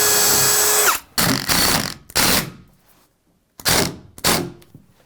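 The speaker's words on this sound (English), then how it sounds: "Straight in with a bigger drill bit." A power drill fitted with a bigger bit bores into a hardwood countertop, whining in four or five loud, short bursts separated by brief silences, close up and alone.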